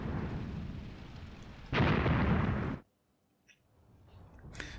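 Gunfire in the war game Graviteam Tactics: Mius Front, a loud rumbling burst of shooting that cuts off abruptly, followed by near silence and a few faint distant pops.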